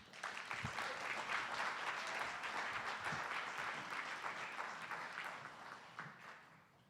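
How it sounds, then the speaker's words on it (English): An audience applauds two department directors at a youth leadership conference, a steady wash of many hands clapping at moderate level that holds for several seconds, then thins and fades toward the end. "I want you to give a round of applause for Director Carla Williams Scott and Director Joy Bivens."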